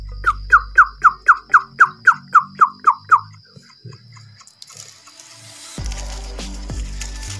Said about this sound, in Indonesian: Ini duduknya burung bubut alang-alang ya, teman-teman, bubut kecil.